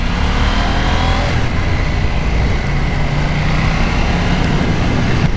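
A KTM 790 Duke motorcycle engine drones loudly and steadily while riding through gaps in traffic, with continuous wind and road noise and no break in the sound.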